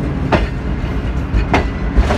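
Millat Express with new CRRC Tangshan coaches rolls into Hariya railway station, a steady rumble of wheels with periodic clicks and clacks of rail joints, fairly close and continuous.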